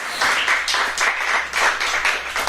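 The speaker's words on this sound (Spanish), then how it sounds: "¿Puede brindar una fuerte ofrenda de palmas al Señor en esta hora?" A church congregation claps hands together in worship, a dense, steady patter of many palms filling the space without pause for the whole stretch.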